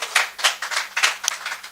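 A small group claps for AMG Realtors staff members, a sparse run of sharp, distinct handclaps in an uneven rhythm, close and fairly loud with no talk over it.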